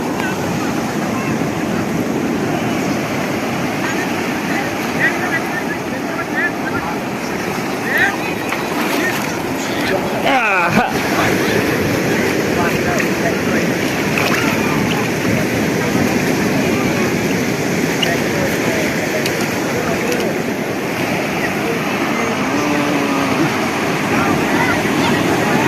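Sea waves washing onto Chivla beach in Malvan, a continuous rushing surf under wind noise, with people talking nearby throughout.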